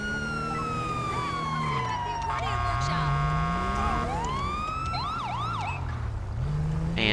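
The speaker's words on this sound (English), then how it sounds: "you can drive and turn on your sirens." Police car sirens in the GTA V LSPDFR mod wail and yelp in shifting patterns, switching between tones over a steady background hum.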